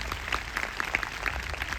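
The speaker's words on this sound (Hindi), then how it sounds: "आइए हम अपने पास्टर्स के लिए एक अच्छी ताली बजाएं सब मिलके" A church congregation claps for its pastors, a moderate, scattered patter of hands with a few sharper individual claps above a low room rumble.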